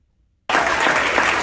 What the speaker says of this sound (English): We are listening for the applause.